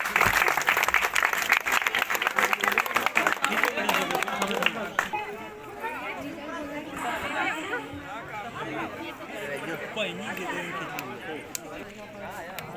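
An audience at an Indian program gives a burst of clapping, loud and busy at first, then fades into a murmur of crowd chatter and voices.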